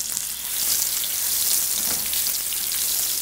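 Salmon fries in a pan of olive oil and butter, giving a steady, close, crackling sizzle with fine spattering pops throughout.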